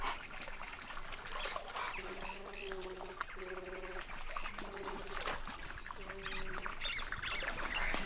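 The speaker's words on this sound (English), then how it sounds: "They make a particular sound to warn of an approaching jaguar. But these are just contact calls." Giant otters trade repeated short tonal contact calls in bursts over running water and rustling in a riverside setting, the calls moderately close and mid-level in volume.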